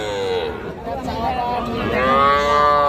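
Cattle moo loudly in long, wavering calls at a busy Bangladeshi livestock market where small bulls and heifer calves are sold, several overlapping lows rising over crowd babble and nearby talk.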